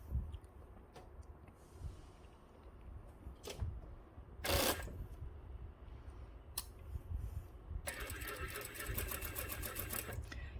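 A sewing machine stitches doll hanbok underpants in bursts of rapid mechanical whirring, with short clicks and knocks between runs and a longer steady stitching stretch near the end, close and fairly quiet.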